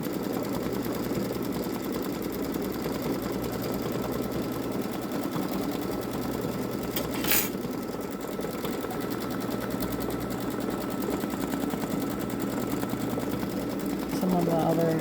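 A Babylock Solaris 3 embroidery machine stitches out a design, a steady, even mechanical whirr that runs throughout with a brief sharp burst midway.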